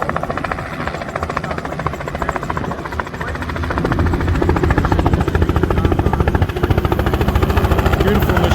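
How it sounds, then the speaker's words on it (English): Helicopters running at the Barossa airshow, a loud, steady rotor thump and engine whine close by that grows heavier partway through, with voices faintly under it. "Helicopters are still running."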